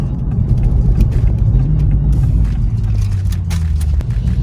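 A 2020 Toyota GR Supra fitted with HKS Hipermax coilover springs rolls down a bumpy road, with steady low engine and road rumble and occasional thumps from the bumps inside the cabin.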